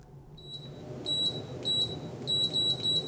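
Continuity-test beeps from a Brymen BM235 multimeter with its probes touching: a short opening tone followed by several clear, fairly loud beeps of uneven length, separated by brief gaps and heard over low background hum with no talking.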